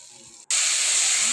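Pieces of chicken are dropped into hot oil in a pan. After a brief lull there is a sudden, loud burst of sizzling and frying that stays bright and steady.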